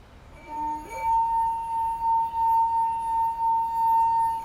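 A wine glass filled with a dense liquid rings with a clear, sustained pure tone after a brief tap, holding steady with slight pulsing, close and alone without talk.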